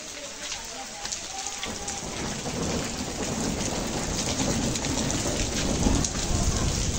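Heavy rain pours down steadily in a village, a dense close hiss and patter on surfaces that thickens over time, with thunder rumbling underneath.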